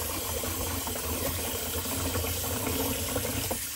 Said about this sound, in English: Let's empty good old Sigmund the Sea Monster sink.